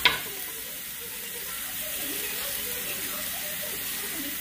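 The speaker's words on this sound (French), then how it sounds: "Je reviendrai mettre mes autres ingrédients une fois que les oignons auront un peu cuit." Onions sizzle gently as they cook in a pan, a soft, continuous hiss and crackle at close range with a faint clink at the start and no voices over it.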